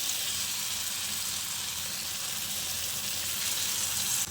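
Batter-coated stuffed spiny gourd frying in hot oil, a continuous soft hiss of bubbling fat held at an even level throughout, with no talking.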